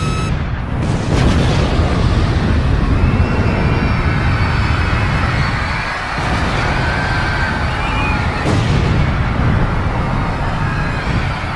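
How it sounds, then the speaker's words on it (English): The New Year's ball explodes as a sound effect in an emergency alert broadcast scenario: a loud, sustained roaring blast that rumbles on without a break for several seconds. "the ball is about to explode"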